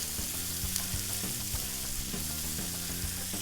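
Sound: vegetables sizzling in a preheated pan

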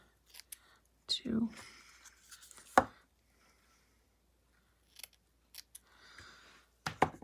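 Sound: rough cutting velvet paper into strips

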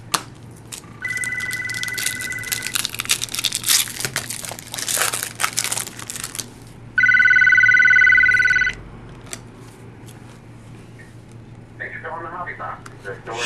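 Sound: telephone ringing

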